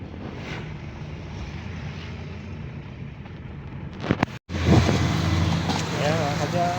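Highway traffic rushes past close by, a broad roar of passing vehicles buffeted by wind on the microphone. A brief dropout occurs midway, then a louder surge follows, with a voice faintly audible near the end.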